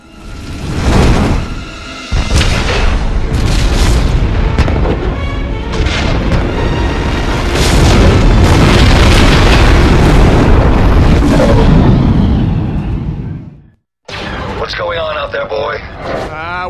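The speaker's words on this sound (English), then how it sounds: "there's the fireball getting launched up into the sky" Fireball explosions in the video game Star Wars: The Force Unleashed on Imperial Raxus Prime, loud booming blasts and roaring rumble filling most of the stretch, then a sudden cut to quieter game audio.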